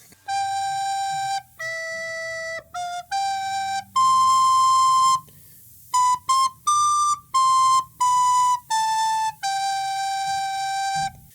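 A recorder plays a simple Christmas song melody in clear, breathy tones, about a dozen separate notes of varying length with short gaps, a long held note midway, close and fairly loud with no talking.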